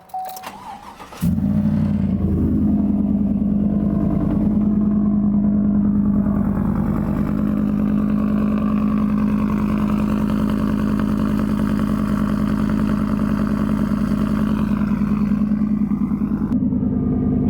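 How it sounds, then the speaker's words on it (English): A U-Haul truck's engine cold-starts with a brief crank, then settles into a steady, loud low idle that runs on unbroken, close by, with no talking. "Thought since I'm walking out to start the truck, minor cold start."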